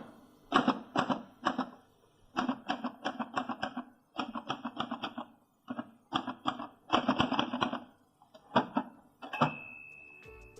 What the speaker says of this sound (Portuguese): vou pelo menos te agraciar com um som nostálgico tão peculiar dessa máquina de escrever